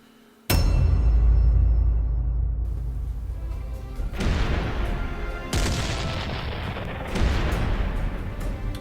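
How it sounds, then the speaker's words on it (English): A cannon booms in a Hunger Games simulator game to mark a tribute's death. One loud, deep blast is followed by a long rumbling echo, then several more heavy booms roll in. "Well, FLUFFBUTTS, that is the familiar sound of the cannon signifying a tribute's death."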